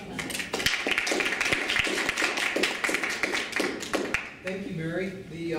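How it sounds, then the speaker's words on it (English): An audience claps in a steady burst of applause, many hands close and lively, tapering off as a voice begins speaking at the end. "would you give these guys a round of applause and welcome them"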